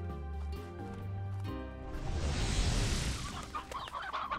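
Chickens in the video game Slime Rancher cluck and squawk in a busy, overlapping flurry, following a brief stretch of tonal game music.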